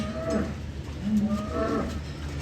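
Dairy cows lowing on a farm as they are pushed over between stalls, two drawn-out moos about a second apart, fairly close, with steady outdoor background noise and no talk.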